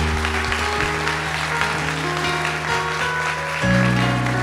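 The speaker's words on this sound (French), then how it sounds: "Est-ce qu'on veut les applaudir?" Audience applause at an evening worship and praise gathering, a steady wash of clapping mixed with music or sustained tones throughout, swelling louder near the end.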